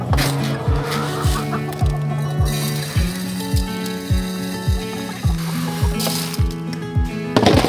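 Chickens cluck repeatedly in a steady, close rhythm while waiting for feed, the short calls coming every half second or so over a low background hum, with no talk.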